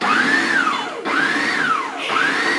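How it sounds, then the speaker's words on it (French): An electric kitchen blender runs loud and close, its motor pitch rising and falling in three repeated sweeping cycles with brief dips between them, with no voices over it. "Ce mixeur va nous faire galérer"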